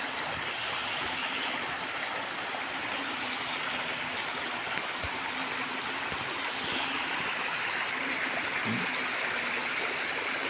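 Heavy rain pours down with water rushing along a flooded road, a steady dense wash of noise that fills the whole clip without a break.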